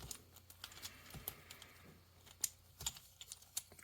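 Small clicks and snaps of plastic parts being folded on a Transformers Generations Legacy Crasher toy, scattered light taps and a few sharper clicks, close and quiet.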